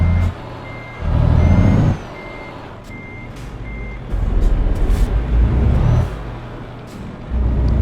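A truck backs up to make a turn, its reversing alarm sounding as a steady series of evenly spaced electronic beeps over a loud, close diesel rumble that swells and eases as the engine works.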